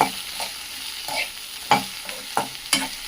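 A spoon stirs a sizzling tempering of spices in oil in a thin-bottomed pan for okra palya, soft frying hiss under several sharp metallic scrapes and taps against the pan, close and alone.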